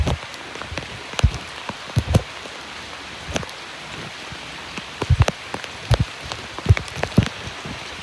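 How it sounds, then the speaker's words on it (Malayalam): Steady rainfall with scattered drops striking a surface, irregular sharper splats popping out over a constant wash. "നല്ലതായിട്ട് വെള്ളം വീഴുന്നുണ്ട് കേട്ടോ"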